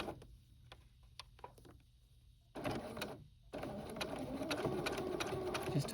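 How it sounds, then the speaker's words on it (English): A sewing machine stitches through a thick quilt, first in short tapping bursts, then a pause, then faster continuous running stitching, close and clear. "So I'm going to sew a little bit, and then I'm going to backstitch."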